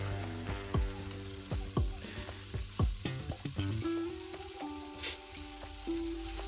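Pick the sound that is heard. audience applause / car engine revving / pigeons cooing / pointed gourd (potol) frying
pointed gourd (potol) frying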